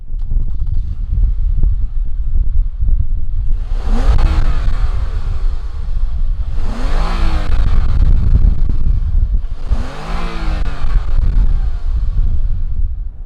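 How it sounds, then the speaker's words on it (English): A 2019 Lexus ES 350 engine idles steadily with three distinct revs rising and falling in turn, each a loud swelling roar before settling back to the idle. "fire up this ES350 and see what it sounds like"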